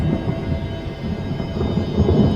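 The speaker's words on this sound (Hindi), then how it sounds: "ठीक उसी वक्त गोल्डन गेट होटल के ऊपर आसमान में बिजली कड़की।" A thunder clap rumbles over steady rain in a horror story scene, a dense low roar filling the whole moment with no voices.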